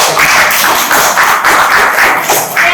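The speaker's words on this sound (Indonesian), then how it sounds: "Kasih tepuk tangan" Loud, close clapping by students in a vocational school computer networking classroom, a continuous rapid patter of hands in uneven pulses, with no talk over it.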